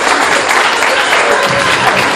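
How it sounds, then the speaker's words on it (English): An audience at a hypnosis show claps loudly and continuously in dense, close applause from start to finish. "A big round of applause."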